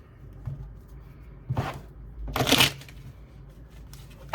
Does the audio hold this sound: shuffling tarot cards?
yes